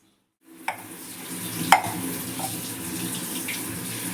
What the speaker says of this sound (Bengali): চলো মাংসগুলো ধুই এখন।